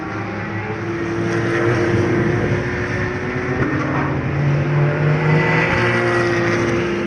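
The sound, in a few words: race cars lapping the Nogaro circuit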